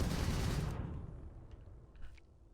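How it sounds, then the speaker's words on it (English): Spaceship weapons in a space combat video game fire in a loud, dense rattling burst that cuts off abruptly, leaving a decaying rumble with a few faint clicks and blips trailing after. "The other weapons are just firing from the top end."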